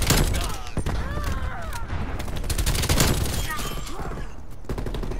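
Rapid bursts of gunfire crackle from Call of Duty Black Ops Cold War, sharp repeated shots and fusillades stacking over one another while a voice talks throughout.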